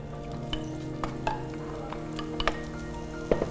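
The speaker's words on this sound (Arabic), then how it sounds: "بعد ما ذابت الزبده تاعنا نحطو شويه تاع بصل." Chopped onion fries in melted butter in a pan, a quiet, even sizzle with scattered light clicks and taps as it is stirred, and no voices.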